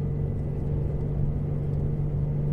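A Nissan G35 with stock headers, ISR test pipes and an HKS axle-back exhaust idles nearby, a steady deep droning rumble with a strong low hum and no other sounds.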